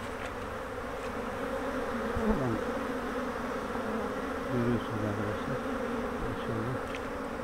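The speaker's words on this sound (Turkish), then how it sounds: "Bakın şu arıların baş taraflarında kırmızı olan yerler ballı baba olan bitkiden nektar ve polen getiriyorlar." A dense, steady buzz of many honey bees at a hive entrance, close and continuous, with someone speaking briefly over the hum.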